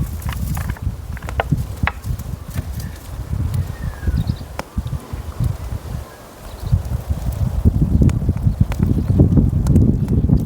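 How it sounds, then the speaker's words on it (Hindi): Strong wind gusting through a pine forest at an overnight group campsite in the Uttarakhand hills, a steady loud rushing roar that swells toward the end, with faint rustling and a few knocks underneath. "तो बहुत तेज़ हवाएं चल रही है"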